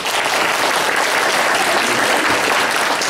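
A church congregation clapping during a Taiwanese-language joint worship service with installation and baptisms, a sustained, even round of applause that holds steady throughout with no talk over it.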